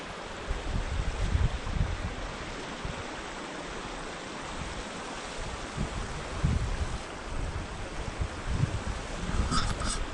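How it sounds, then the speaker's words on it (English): A flowing mountain stream on Kinder Scout in strong wind, a continuous broadband rush of water with gusty low rumbles swelling and easing over ten seconds, close by, with no voices. "Sorry about the noise, it's a bit of a stream."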